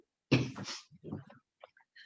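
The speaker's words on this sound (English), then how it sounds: "I have a tough cough." A single sharp cough bursts out, followed by a few quieter breathy sounds and small mouth noises.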